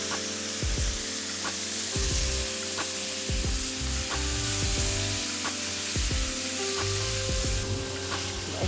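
Chicken curry frying in a pan, a dense, close sizzle broken by repeated scraping and knocking strokes as a spoon stirs it in an irregular rhythm, with no talking.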